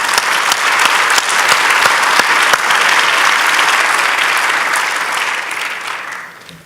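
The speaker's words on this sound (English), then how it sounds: "I just want to give you guys a round of applause real quick" An audience claps in sustained, dense applause that holds steady and then fades away near the end, with no voices above it.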